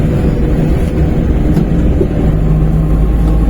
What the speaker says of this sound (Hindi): गाड़ी की साउंड अगर आप लोगों को आ रही होगी ना, तो आप महसूस कर सकते हो कि यार कितना इस टाइम प्रेशर है इंजन के ऊपर।